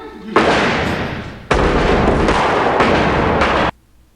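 Gunfire erupts in a Reservoir Dogs film scene: two loud, sustained volleys of rapid overlapping shots, close and harsh, separated by a brief gap.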